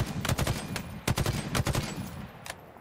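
Rapid bursts of shock rifle fire in the video game Halo Infinite, with several sharp cracking shots in quick clusters followed by a lone later shot, loud and close against a busy game backdrop.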